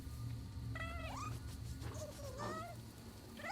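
Several short, high rising meows from a cat in the Nioh 2 video game, spaced apart over a steady low background hum and game ambience, with no talking.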